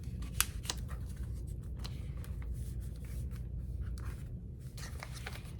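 Scissors snipping through paper while making an envelope folio, a quiet series of short crisp cuts at close range with soft rustling between them, no talking.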